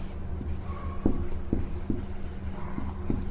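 A teacher writes on a classroom board, with chalk or marker taps and short strokes in an uneven rhythm, close and clear with no talking.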